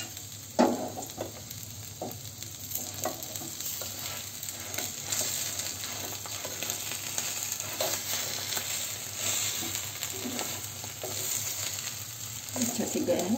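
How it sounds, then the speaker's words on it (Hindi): Aloo paratha frying in oil on a pan as it is turned and pressed: a continuous close sizzle with soft spatula taps and scrapes throughout, and no clear speech. "अब मैं इसको घुमा घुमा के सेकूंगी ऐसे तेल पर।"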